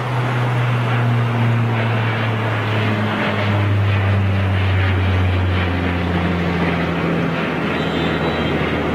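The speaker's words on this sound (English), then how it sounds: "Look at that beautiful big GE90 engine." An airliner with big GE90 turbofans departs Heathrow runway 09R, a loud, sustained engine roar with shifting tones that holds for several seconds, with no voices.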